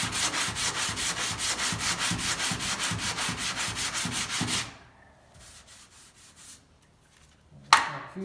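Fiberglass filler being sanded by hand: rapid, even back-and-forth rasping strokes, close and loud for about four and a half seconds, then quiet apart from a short final scrape.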